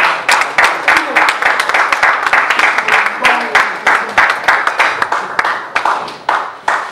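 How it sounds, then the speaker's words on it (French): Audience at a press conference in Kinshasa applauding, a steady burst of sharp, rhythmic handclaps that carries on for several seconds before tapering off. "Applaudissez, s'il vous plaît."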